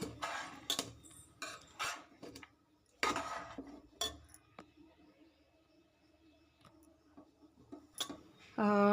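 Puffed rice (mandakki) is tossed by hand with roasted gram flour in a bowl, giving soft crisp rustling bursts and light clinks in irregular spurts with quiet pauses between.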